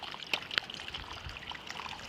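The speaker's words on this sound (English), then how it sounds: "the water is traveling behind the gutter" Rainwater runs behind a house gutter where the flashing between gutter and drip edge is missing, in Easton, Massachusetts. A faint, steady trickle carries on throughout, with a couple of sharper drips near the start.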